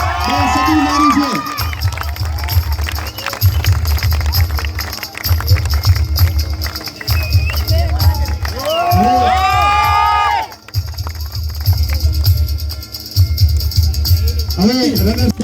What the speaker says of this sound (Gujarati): આના માટે એક જોરદાર તાળી થઈ જાય